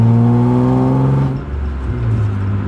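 A loud BMW E36 engine with an M50 manifold swap drones with strong low harmonics, then its pitch drops and shifts as the car keeps driving, close and sustained throughout.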